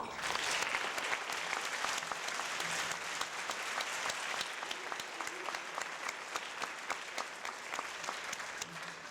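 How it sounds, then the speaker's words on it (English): A banquet audience of graduating students and family members gives a round of applause, a fairly faint but continuous patter of many hands clapping, with a few sharper claps standing out. "give each other one more round of applause"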